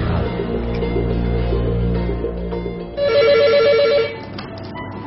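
A telephone rings in a police traffic duty office, its ring rising clearly over a steady background hum with no one speaking.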